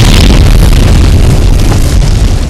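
A missile blows up on an aircraft in the SimplePlanes flight game: a loud, sustained blast with a heavy low rumble that fills the whole moment and holds steady without a clear tail.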